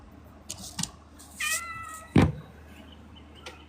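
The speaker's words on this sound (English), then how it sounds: "I hear the kitty." A house cat meows a few times indoors, short close mews with one louder drawn-out call in the middle, over quiet background with a couple of faint clicks.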